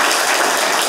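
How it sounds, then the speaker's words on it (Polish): An audience at a senior-safety event claps in a brief, dense burst of loud applause filling the whole moment. "Więc brawa!"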